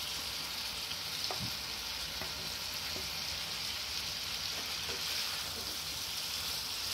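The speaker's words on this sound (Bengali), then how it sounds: "তো এর মধ্যে আমি ভেজে রাখা আলু আর পটলগুলো দিয়ে দিলাম।" Fried potatoes and pointed gourd sizzle in a spiced masala, a steady close broadband hiss of hot oil with a few soft clinks and stirring sounds over about seven seconds and no talking.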